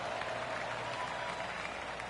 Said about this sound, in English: golf clap, really good.